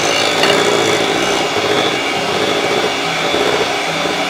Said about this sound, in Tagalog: Pag nalagay na natin yung ating Alaska or yung ating condensed milk, haluin lang natin siya ulit.